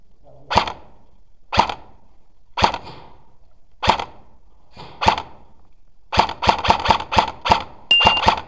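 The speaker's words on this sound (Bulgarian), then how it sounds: "Спри да го стреляш." Sharp snapping gunshots from an airsoft gun during an outdoor airsoft game, spaced single shots at first, then a quick burst of rapid fire, close and loud.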